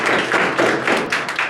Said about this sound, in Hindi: इसके लिए ताली मारिए थोड़ा।